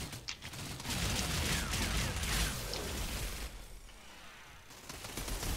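Gunfire rattles in the sci-fi shooter game Outriders, a dense, continuous burst of noisy shots and mechanical clatter that stays loud for several seconds with no voices over it.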